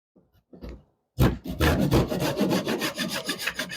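A hand edge saw cuts off a wooden spline at a mitered corner joint, with a few faint scrapes before a steady, close, rasping back-and-forth sawing stroke takes over.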